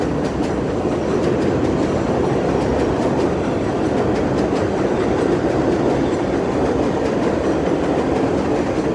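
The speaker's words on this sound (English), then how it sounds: "These trains are horrible, guys." A New York City subway train riding on rails: a loud, steady rumble and roar with faint rhythmic clicks from the wheels, unbroken throughout.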